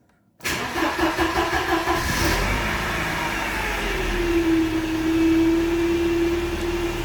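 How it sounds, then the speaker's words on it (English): A cold Mercedes engine with K-Jetronic fuel injection cranks and catches at once, then settles into a steady, loud idle with a rising whine and a smooth, even hum, close by. "I would like just to start the car and to interrupt the cycle of 28 seconds"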